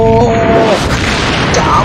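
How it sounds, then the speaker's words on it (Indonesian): A mine explodes in a video game, a loud, thick blast that fills the whole moment and rumbles on without fading, with a brief voice-like tone at the start. "Wah, meledak cuy."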